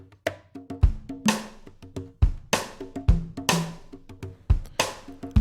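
A drum beat loops in a steady groove, deep bass drum thumps alternating with sharp, bright rim shots and lighter ticks, every hit close and clear with nothing else behind it.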